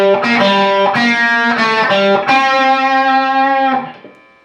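Distorted electric guitar plays the first section of the solo, a few repeated picked notes, then one long sustained note that fades out, loud and close with no talk.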